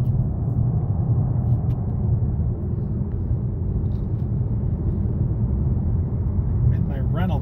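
A Dodge Charger GT rental car drives through the Virgin River Pass between Nevada, Arizona and Utah, its engine and road noise forming a steady, low, throaty rumble throughout.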